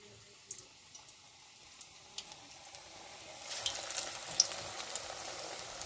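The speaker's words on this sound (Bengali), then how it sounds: "তেলটা গরমও হয়ে এসছে। এবার আমি দিয়ে দিচ্ছি এখানে একটা একটা করে পকোড়াগুলো।" Drumstick flower pakoras fried in hot oil, a faint, steady sizzle that grows denser and louder partway through as more fritters go into the pan, with a few soft clicks and no voices.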